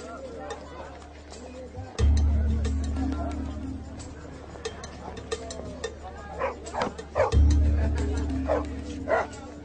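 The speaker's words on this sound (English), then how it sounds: "Village dogs." Mongrel village dogs in the Bangladesh Sundarbans yip and bark in scattered bursts at middle distance, over a low rumbling background with deep booming thumps.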